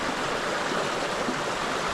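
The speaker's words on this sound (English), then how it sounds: "We have a beautiful creek sound" An alpine creek flowing among trees, a steady broadband rush of water that stays close and even from start to finish, with no voices.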